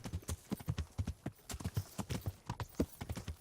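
Horse hooves clip-clopping at a steady walking rhythm in the video game Kingdom Come, close and even, with no talk over them.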